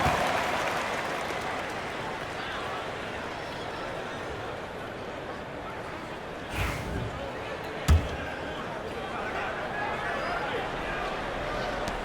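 Crowd applause in the NBA 2K25 basketball video game forms a steady, dense wash of clapping and arena noise, broken by a couple of brief thumps, with voices under it.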